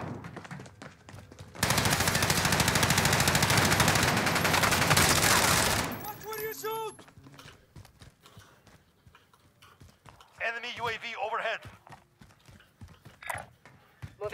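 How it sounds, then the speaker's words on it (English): Gunfire in the video game Call of Duty Warzone: a loud, dense, continuous burst of rapid shots lasting several seconds, then quieter scattered game sounds with brief voice-like calls. "I heard quite a few people shooting there."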